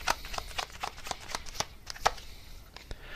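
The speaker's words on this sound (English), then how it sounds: "So let me just get one more card here for any extra info." A tarot deck is shuffled and a card drawn, producing a quick run of crisp, close card flicks and riffles with slight irregular gaps, fairly quiet.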